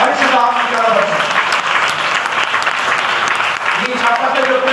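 A church congregation at a Sunday praise and prayer service claps and cheers, loud, dense applause with voices calling out over it, sustained with slight swells.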